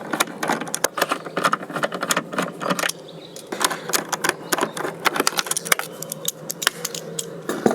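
A 3/8 socket wrench ratcheting as it loosens fasteners to remove a cover on a camper, with rapid close metallic clicking in bursts and a brief pause partway through.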